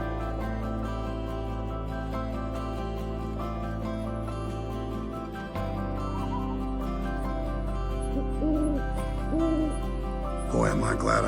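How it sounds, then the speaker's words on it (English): An owl hoots loudly from a tree above a tent in the Yellowstone wilderness at night, repeated calls over a dense, steady layer of music. "I chose to set my tent right under a tree that houses the loudest owl in the continental United States"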